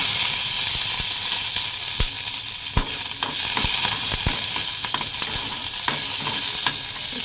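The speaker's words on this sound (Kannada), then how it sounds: "ಕಡಾಯಿ ಸ್ವಲ್ಪ ಬಿಸಿ ಆದ್ಮೇಲೆ ಹಸಿಮೆಣ್ಸಿನ್ಕಾಯಿ ಹಾಕ್ಕೊಂಡಿದ್ದೀನಿ. ಸ್ವಲ್ಪ ಹುರ್ಕೊಳ್ಳೋಣ." Green chilies fry in hot oil in a kadai, giving a steady close sizzle with scattered sharp pops and crackles throughout and no talk.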